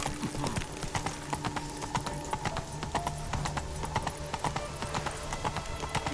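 Trotting horse in The Witcher 3, with crisp, regular hoofbeats close and clear over a low game music bed, a brief whinny near the start.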